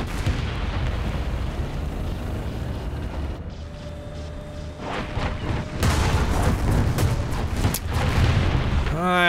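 Artillery fire in the War Thunder tank game sounds as repeated heavy booms and rumbling blasts over a dense battle din. The impacts grow louder and denser toward the end.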